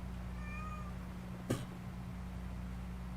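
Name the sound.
cat meowing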